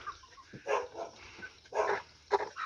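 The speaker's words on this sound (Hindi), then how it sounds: "वो घर से बाहर नहीं निकलता है, यहीं से भौंकता रहता है।" A village dog barks from inside a house: three or four short, sharp barks in uneven bursts, at moderate distance, with no talking.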